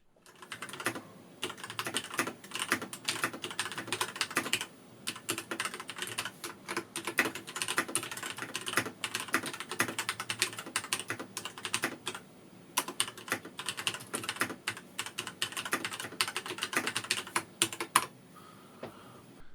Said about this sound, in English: give you a quick sound sample of what it will sound like when you're actually typing on it.